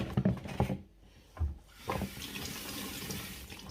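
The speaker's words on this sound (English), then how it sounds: "So we're going to wash the skin in case one is scared of pesticide" Fruit skins rinsed under running water in a kitchen, a few knocks and rubbing sounds first, then a steady faint stream of tap water, fairly quiet and with no one speaking.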